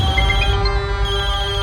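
A phone rings with a steady electronic ringtone of repeated beeping tones, moderately loud and continuous throughout, with no one speaking.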